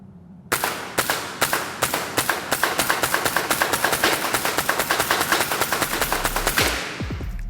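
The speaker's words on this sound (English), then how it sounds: "these will be our first shots out of the new RA1522" A Retay RA1522 fires a long, steady string of sharp, loud shots outdoors at a range, about a dozen evenly paced cracks in quick succession before the shooting stops and echoes fade.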